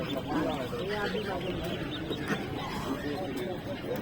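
Ducklings peep softly and continuously in the background while people talk nearby at a village market in Mawna, Sreepur, Gazipur.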